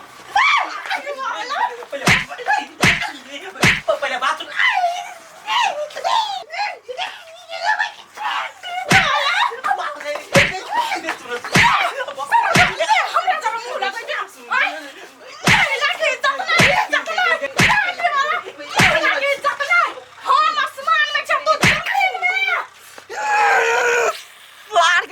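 Repeated sharp slaps ring out, more than a dozen spaced through a Maithili comedy skit, each a crisp smack cutting over loud, excited talking and shouting between women.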